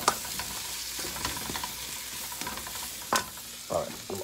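Spinach stir-frying in a pan, a steady crackling sizzle with intermittent scraping and stirring clatters.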